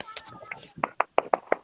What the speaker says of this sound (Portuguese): Deixa eu bater as palmas.